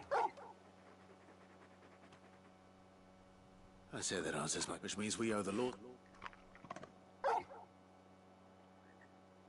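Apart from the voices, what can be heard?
dog whimpering in video game Final Fantasy 16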